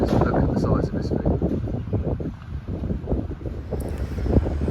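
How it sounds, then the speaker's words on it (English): Strong wind on Mykonos, Greece buffets the microphone in loud, gusting rumbles, with voices talking over it throughout. "it's really windy today"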